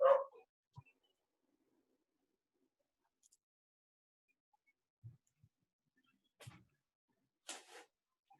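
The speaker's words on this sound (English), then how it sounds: "There's a dog barking here." A dog barks in short, scattered bursts, one sharper bark up front and a few fainter, more distant yelps later, separated by long stretches of quiet.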